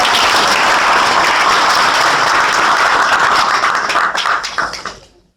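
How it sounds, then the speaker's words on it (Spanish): An audience at a book presentation claps loudly and thickly for a few seconds. The clapping then quickly thins out and stops. "Otro aplauso para..."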